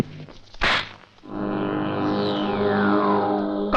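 A single heavy punch impact in a Hindi action film fight scene, a short loud thump that gives way to a sustained, swelling musical drone.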